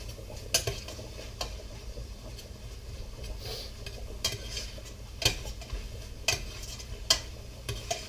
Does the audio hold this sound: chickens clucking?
no